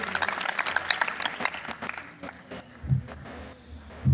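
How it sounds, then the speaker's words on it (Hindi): Audience at a school farewell party claps in a dense burst of applause that thins out after a couple of seconds, leaving scattered claps with some nearby voices. "इस शानदार प्रोग्राम के लिए एक बार जोरदार ताली बजा दीजिए सब लोग"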